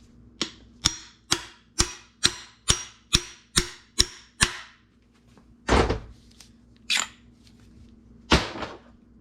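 Hammer striking a star nut into a RockShox Domain mountain bike fork steerer, a rapid series of about ten sharp metallic taps followed by a few slower, heavier blows.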